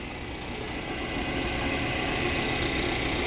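A 2016 Chevrolet Impala's 2.5-liter engine with automatic transmission runs at idle, a steady close rumble with a slight knocking texture and no speech.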